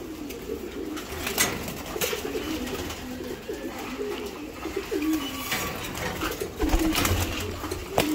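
Many pigeons coo together in a loft, a continuous murmur of overlapping rolling calls with occasional louder nearby coos and faint shuffling.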